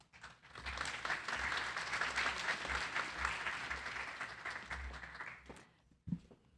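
An audience at a medical talk on an emerging infection applauds to welcome the speakers: several seconds of sustained, even clapping that tapers off, with a faint sound after it.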